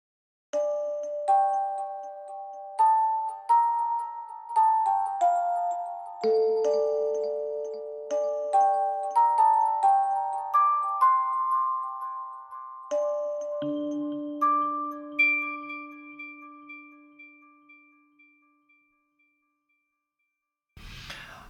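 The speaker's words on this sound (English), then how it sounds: "So this is the sound of the Celesta." Celesta voice from the SOLE virtual instrument plays a bell-like melody of bright chiming notes with a delay echo, notes ringing and overlapping before the phrase thins out and fades near the end.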